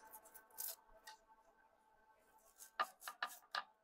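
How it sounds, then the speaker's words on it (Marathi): A knife chops vegetables and onion: a few crisp, close cutting strokes come in a short run near the end, over a quiet room hum with no talking. "मला व्हेजिटेबल आणि कांदा वगैरे कट करायला खूप आवडतं"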